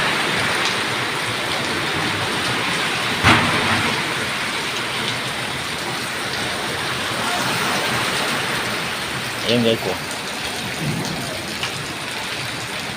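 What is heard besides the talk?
heavy rain pouring down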